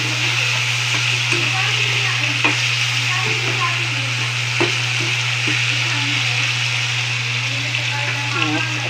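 Tomatoes are stirred into a sizzling pan of adobo, with a constant bright frying hiss, a low steady hum beneath and scattered scraping taps from a utensil moving through the food.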